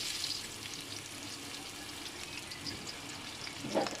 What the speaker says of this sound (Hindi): थोड़ी देर के लिए हम इसको सौते करेंगे ताकि हमारा जो जीरा और लहसुन का कच्चापन है वो ख़त्म हो जाए।